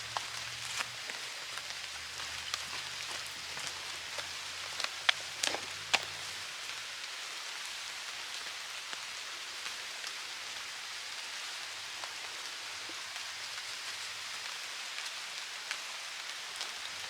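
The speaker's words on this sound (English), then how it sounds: "Seems like the rain is picking up a bit." Steady rain falls in a garden, a soft continuous hiss of drops spattering leaves and soil at low level, with a few slightly louder nearby drips and no voices.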